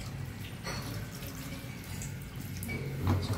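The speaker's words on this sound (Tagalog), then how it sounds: "Lagyan natin siya ng tubig." Water is poured into a cooking pot where food has just cooked, a soft continuous splashing and trickle, fairly quiet and close, with no voices.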